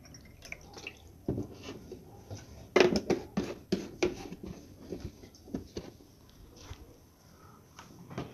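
Water is poured for a drink and drips and splashes in uneven bursts, with a louder cluster of pattering in the middle, close and fairly quiet, with no talking.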